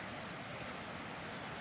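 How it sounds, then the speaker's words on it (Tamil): Steady rushing water from a waterfall along the Parvathamalai hill trail, a continuous broadband roar with no breaks and no talking. "அருவி சவுண்டு இப்போ கேட்கும் பாருங்கள் உங்களுக்கு."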